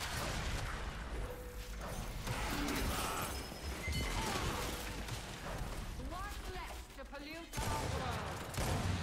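Dense, continuous gunfire and explosive effects from Gears 5 online ranked play rattle on steadily, with a player talking over the action.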